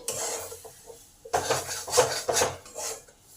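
A utensil scrapes and clinks against a pan while moringa paratha filling with lemon juice is stirred, several quick close strokes after a quieter stretch, no talking.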